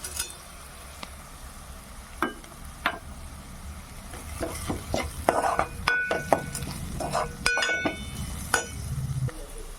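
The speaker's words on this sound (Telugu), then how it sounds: "ఉల్లిపాయలు పచ్చిమిరపకాయలు కొంచెం పసుపు వేసి మగ్గబెట్టుకుంటున్నాను" Onions, green chillies and turmeric cook in a pan, with steady sizzling under repeated sharp clinks and scrapes of a utensil stirring against the metal, and a voice briefly heard.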